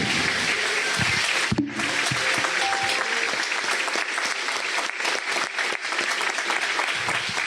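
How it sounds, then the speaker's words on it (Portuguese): A church congregation applauds loudly and continuously, dense clapping from many hands filling the room for several seconds with a brief dip near the start, and no talk over it. "Vamos aplaudir Jesus bem forte"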